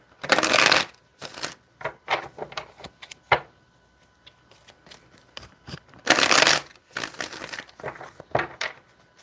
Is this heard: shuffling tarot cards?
yes